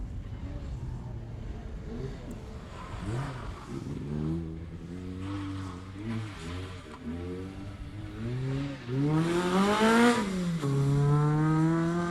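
A Mitsubishi Evo 8 rally car at a Melbourne time trial passes by, its engine note rising and falling through gear changes as it accelerates, growing louder and closer toward the end, with faint voices in the background.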